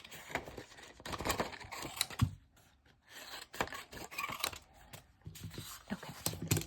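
Scissors snip through craft paper, cutting it into smaller pieces in a quiet room with a series of soft, close, irregular cuts.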